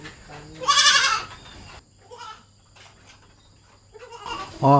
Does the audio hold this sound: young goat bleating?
yes